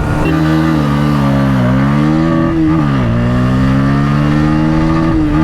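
Two 160cc motorcycles, a Hero Xtreme 160R and a Bajaj Pulsar N160, race side by side in a drag run, their engines droning loudly and steadily with rising pitch sweeps as they shift up through the gears.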